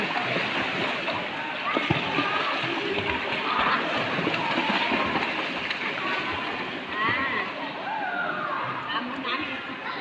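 Water splashes and sloshes in a swimming pool as a child ducks under during a swimming lesson, with a continuous churning wash close by and voices talking throughout.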